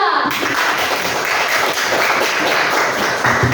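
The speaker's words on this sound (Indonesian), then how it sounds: "Kita beri tepuk tangan dulu untuk kelompok 2" Classroom applause for a student group after their presentation in a grade 8 Islamic religious education lesson: dense, steady clapping from many children, loud and continuous without pause.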